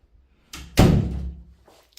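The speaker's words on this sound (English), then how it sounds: "Just going to shut the door for a minute." Bathroom door swung and shut in a Spanish property, a soft brushing movement followed by a solid close-up thud that rings out briefly, then quiet.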